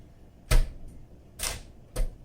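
A 1961 Smith Corona Sterling manual typewriter gives three sharp, close key strikes, unevenly spaced with short quiet gaps between them and no voices.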